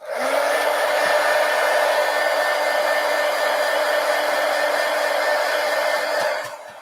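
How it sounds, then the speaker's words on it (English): Heat gun blowing hot air over a drawing, a loud continuous close-up roaring whoosh with a steady hum underneath, starting and stopping cleanly after several seconds. "let me hit it with the heat gun"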